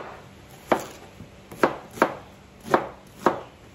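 A knife coarsely chops an onion for goose civet on a board, giving five sharp, evenly spaced thunks at close range with no talking.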